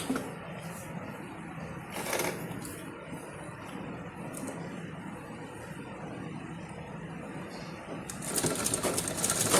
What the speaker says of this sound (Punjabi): ਇੱਥੇ ਦੁਬਾਰਾ ਆਪਾਂ ਸਲਾਈ ਲਗਾਉਣੀ ਜਿਹੜੀ ਆ ਉਹ ਸ਼ੁਰੂ ਕਰ ਦਾਂਗੇ